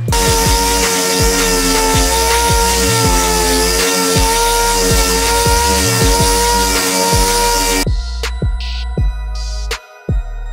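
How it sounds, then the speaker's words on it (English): Paint being wet-buffed with 3000 and 5000 Trizact abrasive on a peeled area, a steady loud whirring machine drone with rhythmic low pulses, cutting out near the end to quieter clicks and handling noises. "let's throw on some 3 and some 5000 Trizac wet, buff this area real quick"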